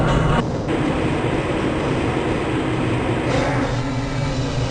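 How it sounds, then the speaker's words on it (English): A Black Mesa transit tram rolls along in Half-Life: Blue Shift, a loud, continuous rail rumble with clattering and a faint whoosh that swells and eases as it travels. "This train is inbound from the Area 8 topside dormitories to the Central Transit Hub in Area 9"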